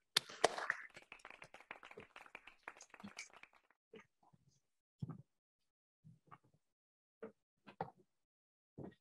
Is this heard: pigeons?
no